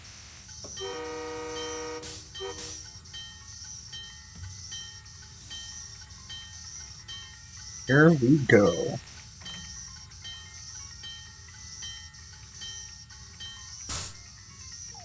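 A Boston Sprinter train pulls away in Train Sim World 2: a low rail rumble and hiss carry throughout, a loud horn blast sounds midway, and someone speaks briefly near the start.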